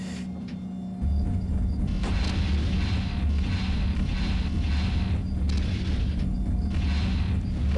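In the 1998 tank game Spearhead, a cannon firing sets off a heavy, sustained low rumble and booming roar beneath a constant engine drone, close and loud.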